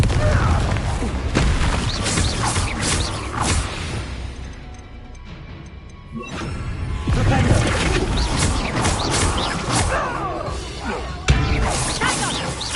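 Spell explosions from Confringo casting in the video game Hogwarts Legacy, a loud run of booming, crashing blasts and impacts across a busy fight, with a brief lull midway and a sharp hit near the end, mixed with shouted voices.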